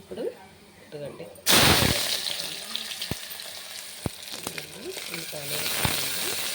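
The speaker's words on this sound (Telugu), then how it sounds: "స్టవ్ వెలిగించి కుక్కర్ పెట్టానండి, ఆయిల్ పోసానండి, అందులో మసాలా వేసుకుంటాం." Masala hits hot oil in a pressure cooker for mutton curry with a sudden loud sizzle that continues as a steady hiss, punctuated by a few stirring knocks, while a voice talks over it.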